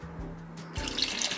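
A cup of water is poured into a blender holding hot sauce, garlic and white vinegar, giving a steady close splashing rush that starts abruptly partway through and continues to the end.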